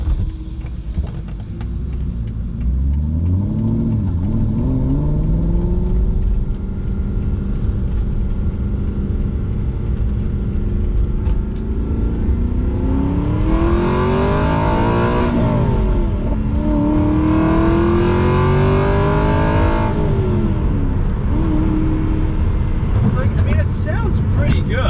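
A modified Aston Martin V8 Vantage engine revs hard through an acceleration pull, its loud droning note climbing and falling in pitch through several rising sweeps, with a voice talking over the engine.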